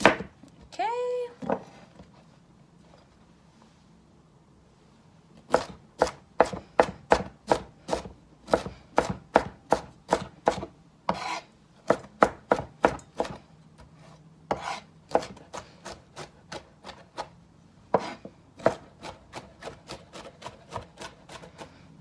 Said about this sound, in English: chopping up the cauliflower is a little bit more work than the broccoli